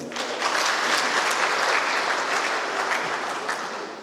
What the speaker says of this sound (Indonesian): Tepuk tangan untuk konsep.